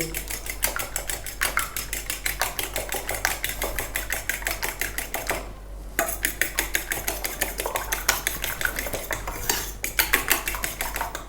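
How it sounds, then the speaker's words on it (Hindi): Eggs seasoned with salt are whisked briskly in a bowl, a fast, continuous clatter of utensil against the bowl with one brief pause midway, close and clear. "अंडों को अच्छी तरह फेंट लेंगे।"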